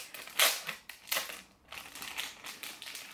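A plastic-wrapped package of letter paper and envelopes being pulled open, close crinkling and crushing in several irregular bursts with short pauses between.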